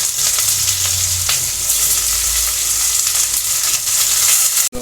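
Onions, green chilies and garam masala fry in hot oil in a pan, making a loud, continuous close-up sizzle with scattered crackles and light stirring scrapes.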